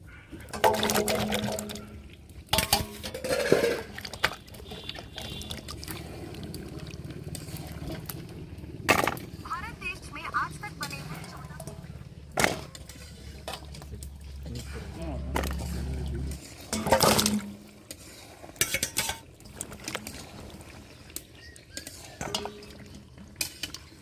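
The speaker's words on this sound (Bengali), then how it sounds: "চিংড়ি করার জন্য যে আলু আর পটলগুলো কেটে নিয়েছি এইগুলো এবার ধুয়ে নেব আলুগুলো প্রথমে ধুয়ে নেব" Cut potatoes and pointed gourd being rinsed in water in a village kitchen before cooking with prawns: intermittent splashes, stirring and clinks of a pot or bowl, close and moderately loud, with a voice at times.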